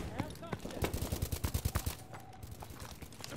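Rapid automatic suppressive gunfire in Call of Duty: Advanced Warfare, a loud burst of closely spaced shots about a second long, followed by scattered single cracks and game noise.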